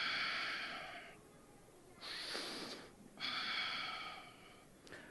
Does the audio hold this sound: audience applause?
no